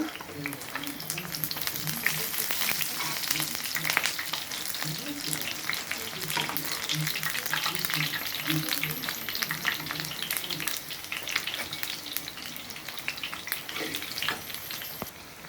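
Eggplant and lentil fritters fry in hot oil with a dense, steady crackling sizzle that runs throughout, broken by a few stirring scrapes.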